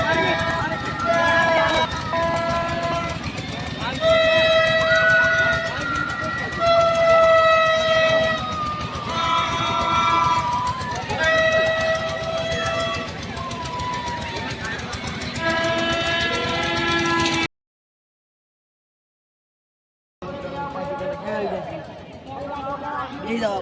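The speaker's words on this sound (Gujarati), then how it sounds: "રેલગાડી આવી જાય." A train rolls past at a crowded village fair on Janmashtami, its horn sounding in long repeated blasts over the rumble of wagons, with people talking throughout and a short gap of silence near the end.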